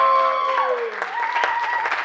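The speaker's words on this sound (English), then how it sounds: "Another one more clap for KITFO Film Festival" Audience at the KITFO Film Festival in Los Angeles breaks into a short round of clapping, a dense patter of hands rising after a brief tonal tail and holding steady to the end.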